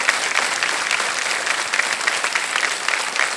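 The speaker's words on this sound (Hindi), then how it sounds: "ये जो ताली है ये बड़े भैया की ओर से है" Studio audience on the KBC Season 16 game show claps for a guest in dense, steady applause that runs unbroken at even loudness throughout, with no talk over it.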